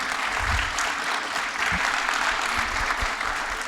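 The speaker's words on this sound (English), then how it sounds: "Let's give a round of applause to all our panelists." Audience at an AI summit applauding the panelists, a steady dense wash of clapping from a crowd that holds evenly throughout, fairly distant and with no talk.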